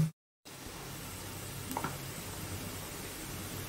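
Potato pieces frying in oil in a pan, a soft, even sizzle heard close after a brief silence, with a small clatter midway.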